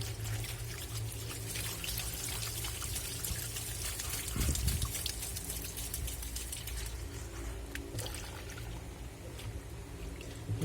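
Water sloshing and churning inside a Black&Decker washing machine as it washes uniforms, a steady broadband wash of liquid noise with a brief low thump midway, continuous and close throughout.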